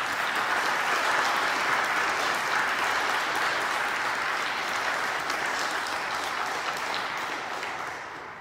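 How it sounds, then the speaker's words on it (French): Applause at a church mass for newly confirmed young people, a steady wash of clapping from the congregation that carries evenly throughout, then slowly fades toward the end. "Je crois qu'on peut les encourager en les applaudissant."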